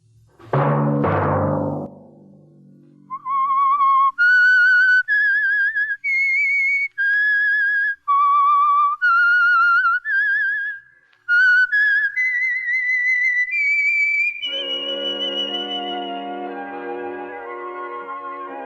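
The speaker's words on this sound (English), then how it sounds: "Let that whistle be your signal for the Whistler each Sunday night at this same time." A clear whistled tune of rising and falling notes with short pauses between phrases, then a brief orchestral chord swells in at the end.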